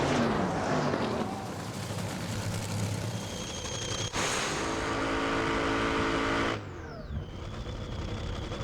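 Drag racing car launching and accelerating hard down the strip at Santa Pod Raceway, a loud, roaring engine note rising in pitch, a brief break, then another sustained roar before fading into a lighter engine sound.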